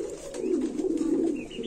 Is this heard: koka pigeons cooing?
yes